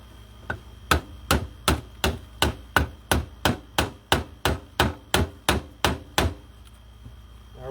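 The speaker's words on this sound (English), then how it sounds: "Now to hammer that in there with a hammer and get it to fit real well" A hammer strikes about fifteen times in a steady rhythm, driving a part into a model dog figure, each blow a sharp, close metallic knock with a brief ring.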